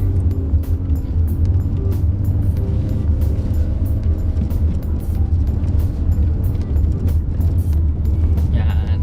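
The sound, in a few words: Mitsubishi Xforce engine climbing uphill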